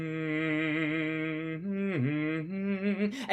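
A saxophone sustains a low, reedy note, dips briefly in pitch, then holds again, played alone.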